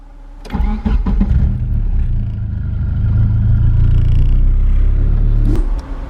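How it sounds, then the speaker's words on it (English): A car engine cranks briefly and catches on the first try, then settles into a steady, loud idle close by for several seconds before a clunk near the end; no one speaks. "So I'm in the car already and about to head out, but let's see if it starts on the first try."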